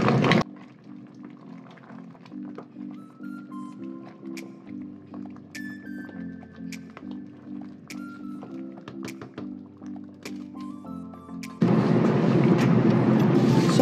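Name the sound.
stirring Ogbono and Okro soup with crayfish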